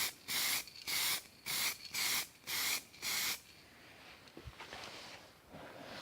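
An aerosol spray can lays a tint dust coat onto the lights of an Austin Mini Van, six short even hissing bursts in steady rhythm, then quieter handling and faint hiss afterward.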